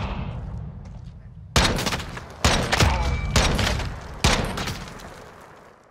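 Gunfire in the video game Call of Duty: Modern Warfare (2019), Gunfight mode: four loud, sharp bursts of shots, each cutting in abruptly and ringing out briefly before the next, close and dominant over a low background rumble.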